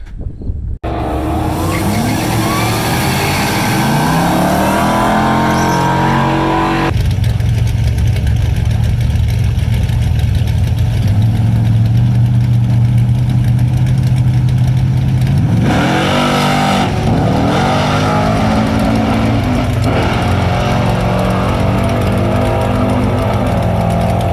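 Drag race cars sit in the staging lanes at a drag strip during a race week, engines loud and close. They idle steadily with repeated revving sweeps, and there is no talking.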